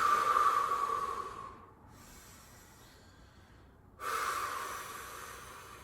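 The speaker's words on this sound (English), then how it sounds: "Deep breaths." Deep, slow breathing during a held core-stability pose: a long airy exhale, a quiet pause, then another hissing breath, close and fairly soft, with no talking.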